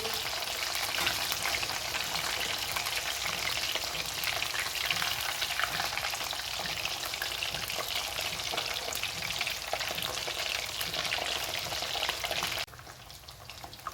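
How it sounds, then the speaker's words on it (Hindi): Marinated fish frying in a pan on a medium-low flame, a dense, even sizzle and crackle held close for most of the stretch, then dropping abruptly quieter near the end. "हम फ़िश को पलट लेते हैं। आँच हमने मीडियम टू लो ही रखनी है।"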